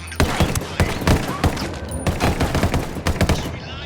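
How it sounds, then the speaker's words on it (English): Rapid gunfire from the video game Ghost Recon Wildlands, a dense string of loud close shots and bursts in an uneven rhythm filling nearly four seconds. "Listening to the sound of gunfire?"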